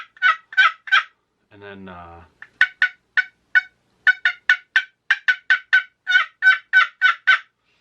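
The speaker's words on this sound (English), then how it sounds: "so you can tell that the pitch of this is much louder than some of the other type of turkey calls" A handheld turkey call blown outdoors in the woods during a hunting demonstration, producing loud, high-pitched gobbling in repeated rapid bursts, briefly interrupted by someone speaking before the gobbles resume.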